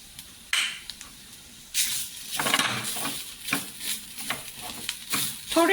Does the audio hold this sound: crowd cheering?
no